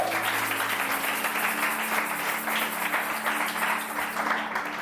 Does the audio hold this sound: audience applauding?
yes